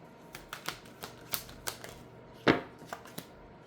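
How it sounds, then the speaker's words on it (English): Tarot cards are pulled one by one from a deck, giving a string of crisp, close snaps and flicks at an uneven pace, with one louder slap near the end. "I'm going to pull all the cards out."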